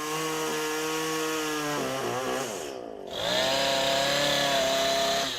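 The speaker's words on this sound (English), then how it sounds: "Artist George Kenny is a chainsaw carver who's been a regular at Danish Days for years." A chainsaw engine drones steadily while carving wood at an outdoor festival, dipping briefly as it bites into the wood and then revving back up, loud and close with no voices.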